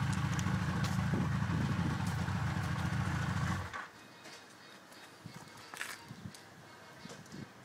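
A Yamaha XJR 1300 with a Delkevic exhaust, baffles removed, idles with a deep low rumble for a few seconds before cutting off, leaving quiet handling noises and faint clinks.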